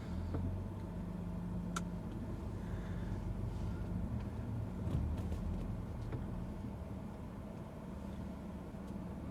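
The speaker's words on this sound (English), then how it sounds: "I'm going to put it on drive, and we're going to start driving." Car starting to pull away and drive, heard from inside the cabin where a mirror dash cam is mounted: steady low engine and road rumble, fairly quiet and continuous, with a few faint clicks and no talk.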